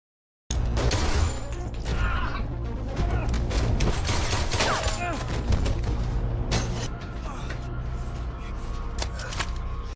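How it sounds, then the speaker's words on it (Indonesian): Gunfire from a shootout in the crime film The Rip, with dense broadband bursts and booms across the whole clip, mixed with a film score, impacts and background voices. "detektif muda ditembak oleh Matty"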